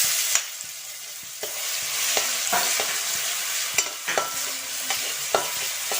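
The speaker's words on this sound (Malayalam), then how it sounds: "ഇതിലേക്ക് ചതച്ച് വെച്ചിട്ടുള്ള വെളുത്തുള്ളി ഇട്ട് കൊടുക്കുകയാണ്." Crushed garlic sizzles in hot coconut oil while it is stirred, a steady close frying hiss broken by sharp scraping knocks of the spoon against the pan. No one speaks.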